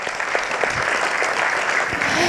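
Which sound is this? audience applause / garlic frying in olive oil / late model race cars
audience applause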